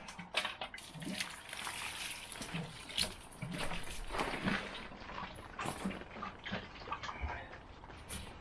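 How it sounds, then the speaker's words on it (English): Water from a can or hose showering onto a freshly sown leek bed of soil inside a polytunnel, a steady soft patter and splash with uneven gusts, close but quiet. "I'm going to give that a quick water."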